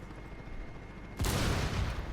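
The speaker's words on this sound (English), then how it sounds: "you can actually throw a grenade through it" A grenade goes off in Rainbow Six Siege after being thrown through Border, a sudden loud burst partway in that rolls out in a broad, noisy blast tail.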